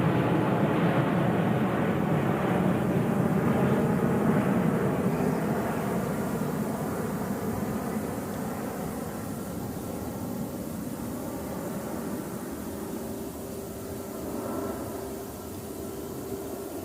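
Jetstar airliner climbing steeply almost directly overhead just after takeoff, a loud broadband jet roar that swells over the first few seconds and then slowly fades as it moves away.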